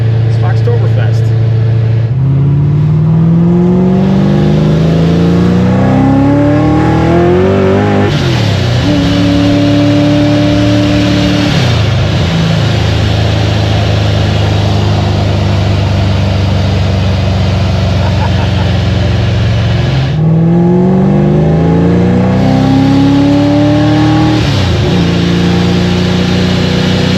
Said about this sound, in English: Those dual blow-off valves just sound like a jet engine